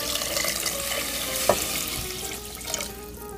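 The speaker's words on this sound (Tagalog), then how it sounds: "lagyan na po natin ng tubig." Water poured into a pan of black rice cooking on the stove, a continuous close splashing rush with a faint sizzle beneath.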